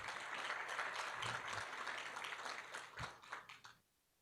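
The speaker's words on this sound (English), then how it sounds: "Let's give them a round of applause, and thank you." An audience at the 2022 South Jersey Nonprofit Summit gives a round of applause, steady and fairly distant, with sharper individual claps standing out before it tapers off and stops.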